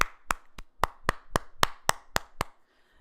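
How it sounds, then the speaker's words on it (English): A lone pair of hands claps about ten times in a steady, even rhythm, crisp and close in an otherwise quiet room on a small talk show, then stops. "so a little round of applause."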